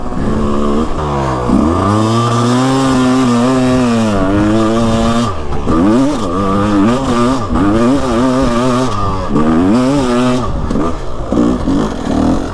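A GasGas 125 two-stroke motorcycle fitted with an FMF Fatty exhaust revs loudly and continuously, its pitch repeatedly sweeping up and down through the gears, close by with no talk.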